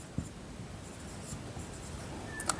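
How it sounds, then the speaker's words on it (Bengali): Marker or chalk writing on a board during a maths lesson on profit and loss, with faint scratchy strokes and small taps under quiet room tone, no speech. "তাহলে এখানে আমি লিখব যে x সংখ্যক"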